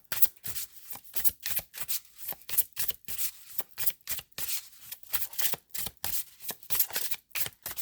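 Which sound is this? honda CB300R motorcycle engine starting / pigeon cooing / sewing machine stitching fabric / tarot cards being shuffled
tarot cards being shuffled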